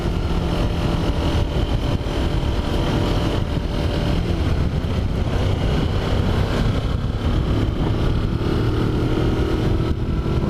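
Kawasaki Versys X250 motorcycle climbing uphill in third gear on an asphalt road, its engine droning loud and steady up close with a constant rumble and wind roar throughout.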